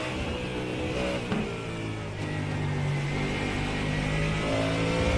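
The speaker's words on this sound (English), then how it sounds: "Always nice just to go silent for a second and absorb the noise of a Ford Mustang." Ford Mustang GTD race car engine in the iRacing video game during an esports endurance race at Sebring, a steady loud roar with rising revs and gear changes, heard alone with no talk.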